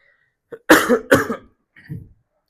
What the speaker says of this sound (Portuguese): Talvez com um pouquinho de tosse